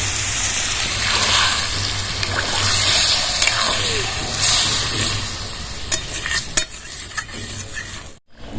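A loud, steady sizzle and bubbling as water hits hot spiced oil in a pan with squash and vegetables, with scraping stirs and a few sharp clinks near the end before a brief cutoff.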